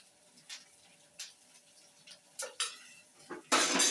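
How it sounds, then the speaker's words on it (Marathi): Potato filling with turmeric being stirred in a pan for vada pav, heard as sparse spatula clinks and scrapes against the metal with quiet gaps, ending in a louder rush of frying hiss. "हळद टाकून झाल्यावर परत परतून घ्यायचं आहे"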